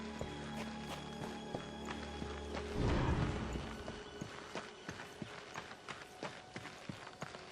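Horse hooves clip-clop in the Darksiders II video game, a steady walking rhythm of hoof strikes over a low ambient drone, with a brief louder rumble partway through.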